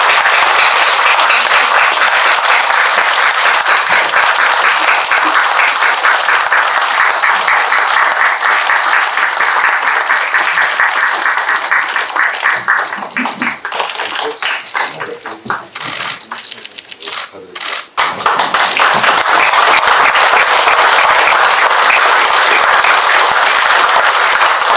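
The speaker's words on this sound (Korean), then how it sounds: "환영하는 걸로 이렇게 자 박수." Loud, dense applause from a crowd at a water-supply cooperation agreement signing ceremony between Yeoju City and the Yongin semiconductor cluster, steady and sustained, briefly thinning partway through before surging back to full strength.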